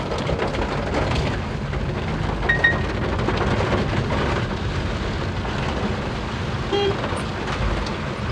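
Heavy monsoon rain pours steadily over Siliguri streets, a dense continuous wash with low rumbling thunder beneath, passing traffic and a couple of faint horn toots.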